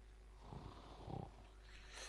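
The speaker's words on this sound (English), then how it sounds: "It sounds like Dad's catching some Z's." A man snores inside a video game: two faint, soft snoring breaths over a low, steady hum, with no talk.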